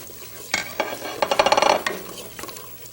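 Cardamom and butter in a heavy pan: a soft sizzle with a quick run of rhythmic spoon stirring and scraping against the pan, close and brief.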